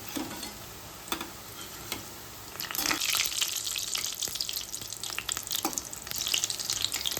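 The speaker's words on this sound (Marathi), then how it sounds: "तेलात जेवढे बसतील तेवढे आपल्याला टाकायचे। गॅस मी फास्टच ठेवलेला आहे।" Medu vada deep-frying in hot oil over a high flame, a steady bubbling sizzle that swells louder partway through, with occasional sharp crackles and clinks close by.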